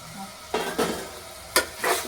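Potatoes and peas are added to a pan of frying pulao base, giving a few separate scraping stirs and a clatter of the spoon on the pan over a faint sizzle.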